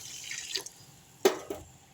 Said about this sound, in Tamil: ஒரு டம்ளர் தண்ணி ஊற்றிக்கலாம்.